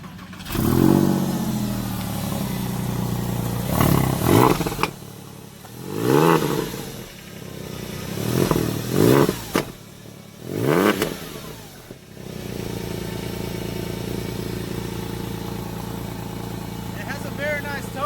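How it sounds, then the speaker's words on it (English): A 2000 Porsche 911 Carrera 4 with sport exhaust cranks and revs in several sharp, rising bursts with pauses between, then settles into a loud, steady idle. "I'm gonna go ahead and crank the car up, let you guys hear it."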